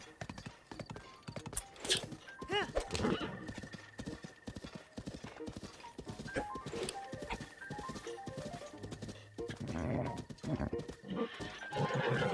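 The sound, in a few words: horse galloping hooves in video game Zelda Breath of the Wild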